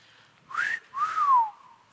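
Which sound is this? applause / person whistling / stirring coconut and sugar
person whistling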